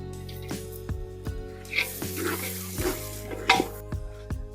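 Soaked peanuts go into a metal cooking pot and get stirred, giving a series of scraping, clattering knocks against the pot over a steady background hum, with a faint sizzle between strokes.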